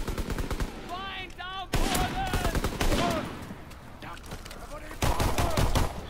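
Pistol and other gunfire in a Call of Duty WW2 private beta multiplayer match: sharp, rapid bursts of shots in close succession, with someone talking over them.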